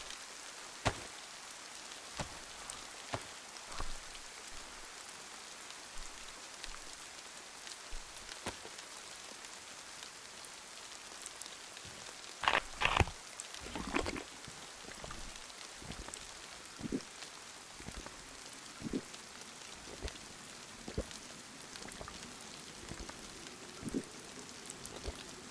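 Rain falls in a video game on a modded map, a faint steady patter broken by scattered sharp drops and taps, with a small cluster of louder clicks midway and no voices.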